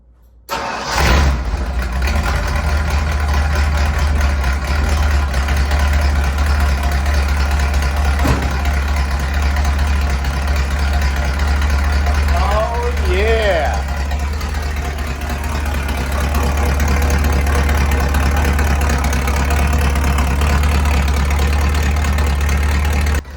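A Ford Bronco with a custom 3-inch quarter-panel exhaust cranks over and catches, then settles into a loud, steady, rumbling idle that holds close and unbroken for about twenty seconds with no talk.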